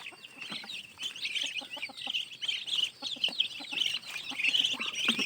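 A small brood of four or five ducklings in a garden peeps continuously in high, overlapping chirps, close and fairly loud, with some lower clucking-like calls underneath.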